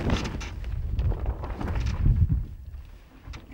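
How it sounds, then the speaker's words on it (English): On a sailboat as the wind dies, a sail flogs with a series of irregular dull flaps and rustling thumps, close by and fairly quiet, mixed with low wind rumble. "now that sail's starting to flog"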